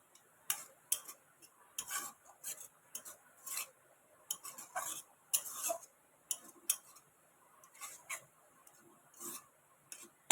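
A spatula scrapes and taps a pan while grated coconut is stirred and fried until red, making quiet, irregular clicks and scratches over a faint background, with no voice.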